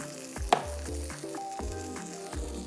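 Chopped steak and chorizo burger pieces, rolled into little meatballs, fry in oiled pans with a steady sizzle, broken by several sharp clatters and scrapes from a utensil, close and moderately loud with no voices.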